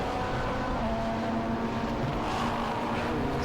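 Racing saloon cars roar continuously along a circuit, a dense layered engine drone holding steady throughout, loud and close with no voices, including a rotary-engined Mazda RX-7 giving chase.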